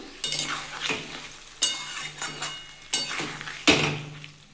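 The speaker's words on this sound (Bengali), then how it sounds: "আমি একটু নেড়ে দিচ্ছি তিনটে কাঁচা লঙ্কা দিয়ে দিলাম" Green chillies frying in a pan with a steady sizzle, punctuated by four sharp, loud spatula scrapes against the metal at roughly one-second intervals, heard up close without speech.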